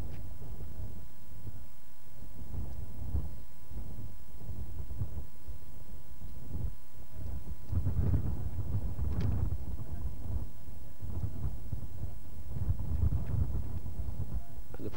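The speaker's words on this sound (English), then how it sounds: "The wind pulling at the mourners as they wait for this sad ceremony to end." Gusty wind buffets the microphone at an airfield during a solemn arrival ceremony, producing low, irregular rumbling bursts that grow stronger partway through, with no voices.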